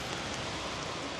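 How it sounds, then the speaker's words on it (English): Steady rain patters on a surface beside an off-road lay-by near the A38 close to Tewkesbury, a dense, even hiss filling the whole moment without pauses or voices. "It's raining."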